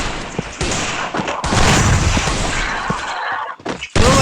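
Rapid gunfire in the mobile shooting game Free Fire, loud bursts of automatic shots in close succession with brief gaps and a final burst at the end.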